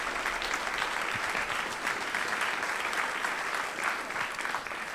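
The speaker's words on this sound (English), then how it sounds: "So please give her a round of applause before she comes out." A conference audience at Konsoll 2016 breaks into steady applause, dense and even throughout, with no voices rising above the clapping.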